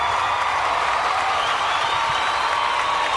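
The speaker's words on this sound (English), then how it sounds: "let's just everyone give a round of applause for us and the good job we've done" A round of applause rolls on as a steady, dense wash of clapping and crowd noise. It stays loud and even from start to finish.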